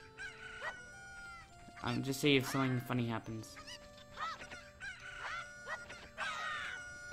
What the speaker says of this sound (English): I'm gonna whack this chicken to death.